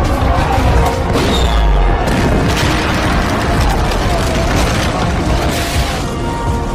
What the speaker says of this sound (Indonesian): tiba-tiba terjadilah baku tembak antara pasukan Belanda dengan pasukan Amir dan rakyat Bali